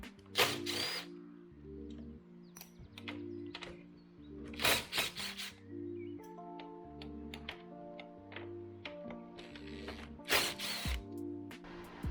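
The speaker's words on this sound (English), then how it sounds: "We're going to take these nuts out and hold the cover on." A ratchet works nuts loose on the driver's side strut cover of a 2009 Lexus LS460 AWD with air suspension, quick clicking bursts alternating with a buzzing power tool and short gaps, close and fairly quiet.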